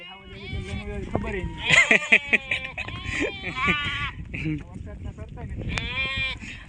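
A herd of sheep and goats bleats close by in the rain, with several overlapping calls of varied pitch. People talk through it.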